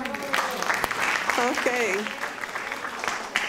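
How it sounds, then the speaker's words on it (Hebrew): An audience at a playback theatre evening applauds, a dense spread of clapping that runs throughout while a speaker talks over it. "מגיע להם מחיאות כפיים"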